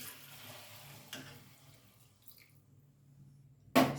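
A tumbler of water goes into a pan of simmering prawn thokku. Soft, faint watery sloshing gives way to a sudden loud splash at the end.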